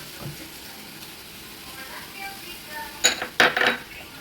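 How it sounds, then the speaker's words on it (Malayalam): A utensil stirs coriander and curry leaves through sizzling dry pepper chicken in a pan, with quiet frying and two sharp metallic clinks near the end. "ഇത് ഇളക്കി യോജിപ്പിച്ചേക്കാം കേട്ടോ."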